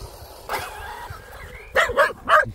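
Dogs in a neighborhood bark and yip nearby: one sharp bark, then a quick burst of three barks, loud and close with little else around.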